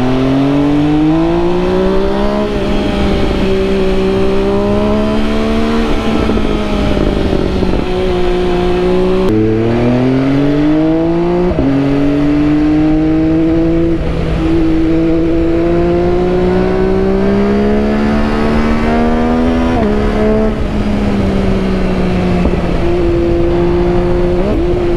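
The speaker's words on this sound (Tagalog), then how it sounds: "Galitin natin ang kanyang makina." A motorcycle engine revs hard and continuously at a bikes and cars night, loud and close, its pitch rising and falling through repeated throttle blips with no pauses.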